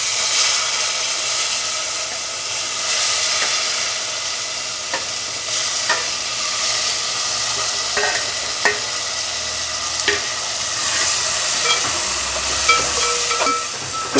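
Chicken frying in oil with turmeric and masala spices, being stirred in a pan for a chicken gravy: a steady, close sizzle with soft hissing and occasional scraping clicks from the spoon, no talking.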